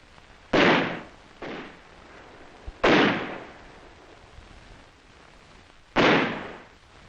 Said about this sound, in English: subjected them to harassing mortar and small arms fire